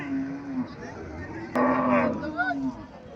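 A dairy cow at a cattle market in Cumilla, Bangladesh, gives a low, drawn-out moo, followed by a second rising call, with crowd chatter and market noise in the background.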